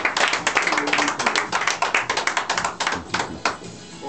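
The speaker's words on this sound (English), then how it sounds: "Clap!" A small group claps at a local radio station's opening as it goes on air, with sharp, close hand claps in a quick, uneven rhythm and a few cheerful voices underneath.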